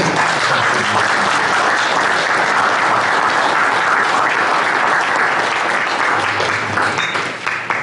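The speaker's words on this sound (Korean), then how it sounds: "우리 김매련 선생님의 건강과 행복, 가족들의 행복에서 힘찬 박수." An audience at a memorial service and book launch ceremony gives loud, vigorous sustained applause, a dense wall of clapping filling the hall for several seconds before tapering slightly at the end.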